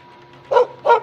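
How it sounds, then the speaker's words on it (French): A dog gives two sharp, close barks in quick succession over a quiet background, with no talking. "Il y a ton chien qui arrête pas de gueuler."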